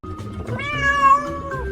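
A cat gives a single drawn-out, rising and falling meow close up, clear and loud against a faint background.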